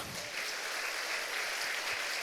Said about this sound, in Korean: 우리 하나님께 영광의 박수합니다